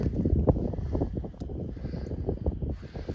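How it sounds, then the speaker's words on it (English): Wind blowing across open grazing farmland, a steady broad rushing roar buffeting close against the microphone for the whole stretch, with gusty swells and no talking. "So y'all going to hear some wind."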